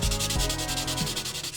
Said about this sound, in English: it just needs minimal wet sanding before we can start base coating it